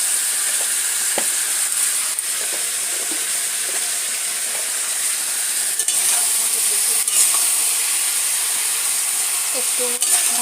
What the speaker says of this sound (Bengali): একটু নুন আর একটু হলুদ দিয়ে হালকা ভাজা ভাজা করে নেব